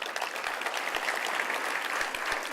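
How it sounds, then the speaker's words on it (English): An audience applauds the three young award winners, a dense, steady wash of clapping heard at moderate distance throughout. "give another round of applause to our 3 young"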